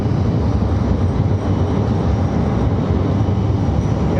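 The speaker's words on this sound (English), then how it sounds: "these trains come every 5 minutes during the peak hours" A light-rail train rolls past in central Jerusalem with a loud, steady rumble and rushing wheel noise that holds constant for several seconds, close by, with no talk.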